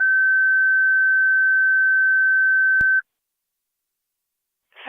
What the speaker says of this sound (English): Fire Control to Tri Community, third set of tones